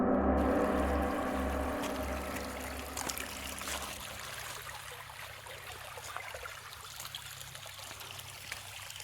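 Creek water flows and trickles steadily along a hiking trail toward a hidden waterfall, a close, continuous wash that softens after the first few seconds.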